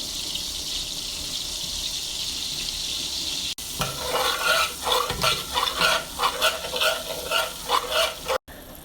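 Garlic powder being stirred into oil in a pot, a spoon scraping and swishing with a light sizzle in uneven bursts close by, after a brief quieter stretch.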